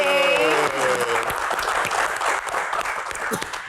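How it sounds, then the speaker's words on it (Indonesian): A television studio audience of university students bursts into loud, sustained applause, dense clapping under a fading musical sting and a few cheers. "kita berikan tepuk tangan yang paling meriah untuk rekan-rekan mahasiswa yang ada di studio Q&A"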